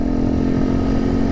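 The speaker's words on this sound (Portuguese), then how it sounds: "um pouquinho do escape já na saída do motor ali, faz um barulho um pouco mais alto" A 100cc motorcycle engine idles steadily with a leaking exhaust at the engine outlet, giving a loud, continuous, rough drone close by, with no voices.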